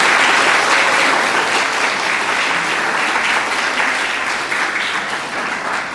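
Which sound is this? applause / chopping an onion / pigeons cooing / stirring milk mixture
applause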